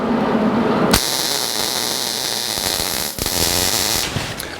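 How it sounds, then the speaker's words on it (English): Welding a bar onto the firewall of a 1949 Chevrolet gasser: a sudden loud, crackling buzz of the arc starts about a second in, sizzles continuously with a brief dip, then carries on to the end. "Here goes the first weld of this project."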